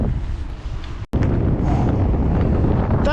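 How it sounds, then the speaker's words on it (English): Wind buffets the microphone during an outdoor bike ride, a loud continuous roar and rumble with one brief dropout before the gusting resumes. "That wind is definitely chillier than it was yesterday"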